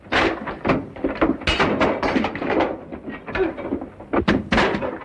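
Heavy fists pound repeatedly on a locked door in a 1936 film scene, a dense run of loud, close thuds and knocks coming in uneven bursts.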